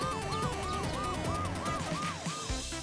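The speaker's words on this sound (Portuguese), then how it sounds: "A ambulância levou nossa Suzy ferida." An ambulance siren wails in a regular rising-and-falling cycle, loud and close, repeating about every half second over a low road rumble.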